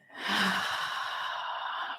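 A single long, soft exhale during a slow yoga flow, a breathy sigh that swells quickly and holds steady for about two seconds before stopping abruptly.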